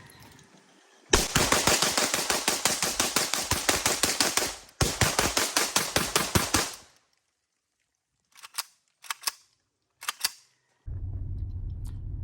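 Rapid full-auto bursts from a Riley Defense RAK74 AK-74 rifle, two long close, loud strings of shots followed by a pause, a few short sharp bursts, then a low steady rumble.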